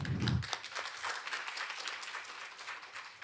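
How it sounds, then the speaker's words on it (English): Audience applause at an academic humanities conference session for Professor Kim, a steady wash of clapping from a seated crowd, loud at the start and continuing evenly throughout. "Please give Professor Kim another round of applause."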